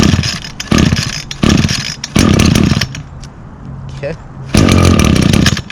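A two-stroke string trimmer with an i30 recoil starter catching and revving in several loud bursts, with choppy pauses between them, close by, and a brief spoken word from a person.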